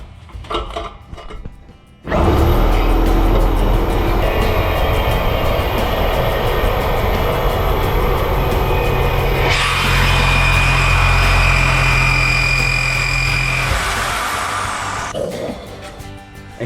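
A truck engine with rusty exhaust mounts revs hard and loud, holding a sustained roar, then rising to a higher pitch before easing off and dropping away.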